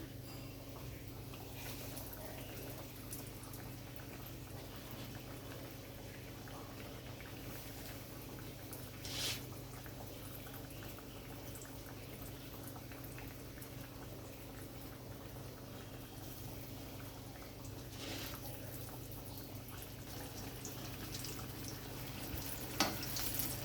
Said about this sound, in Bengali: তেলের মধ্যে এগুলো ভেজে নেব।